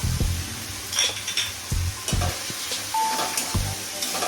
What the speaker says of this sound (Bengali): তারপর এখন টমেটো দিচ্ছি পেস্ট করা